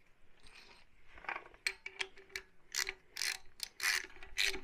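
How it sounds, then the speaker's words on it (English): A T30 screw being driven into a Dana 44 axle with a ratchet, giving close, bursty clicking strokes in an irregular rhythm between short pauses, fairly quiet and with no speech. "you'll screw that in, and it doesn't have to be super tight because it's going to be behind your rim anyway"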